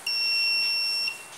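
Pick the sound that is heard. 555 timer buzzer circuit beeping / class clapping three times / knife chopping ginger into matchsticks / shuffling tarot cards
555 timer buzzer circuit beeping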